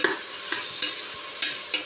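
Ground spice powder being stirred into onions frying in a pan for a country chicken biryani, with a steady sizzle broken by several scraping strokes of the spoon, close and clear with no talking.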